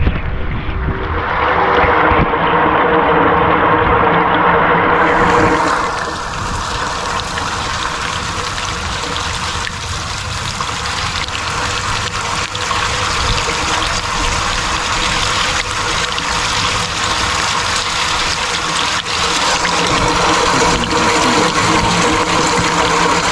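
Steady rushing flow of water running through a corrugated or PVC gutter drainage pipe into a French drain, a continuous loud wash that thins slightly after the first few seconds and carries on without a break.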